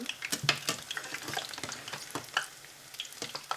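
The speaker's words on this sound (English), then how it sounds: "So we're going to fry our gram flour fritters till it gets crispy but not brown." Gram flour fritters fry in oil, giving a quiet, crackling sizzle broken by scattered clinks and scrapes of stirring, all fairly soft and close with no voices.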